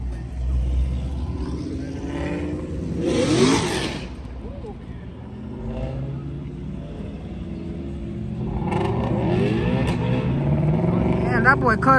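Street car engines rumble and rev at a Garner Park meet-up turned takeover with burnouts, with loud bursts of acceleration rising and falling over about twelve seconds while people talk and shout nearby.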